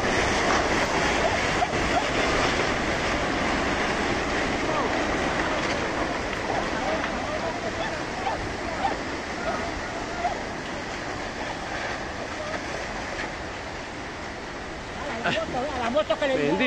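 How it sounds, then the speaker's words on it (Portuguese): Flash-flood water rushes over houses in low-lying areas with a loud, steady, roaring wash that lasts throughout, while a person talks over it. "Veja como a enchente cobriu rapidamente as casas nas áreas mais baixas."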